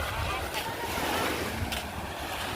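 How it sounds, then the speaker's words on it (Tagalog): Ocean surf rolling onto the beach at Barangay Dinahika, Infanta, Quezon, a steady broadband wash with wind buffeting the microphone and no distinct breaks, heard up close throughout. "Ang laki talaga ng dagat."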